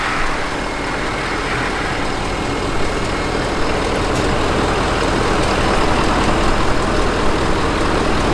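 A Ford F450 Platinum dually pickup truck rumbles steadily with a deep, loud engine drone as it pulls out of a parking spot, the sound heavy and continuous throughout.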